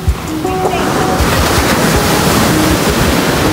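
Steady roar of surf washing onto Laguna Beach, loud and close with wind buffeting the microphone, a brief voice near the start.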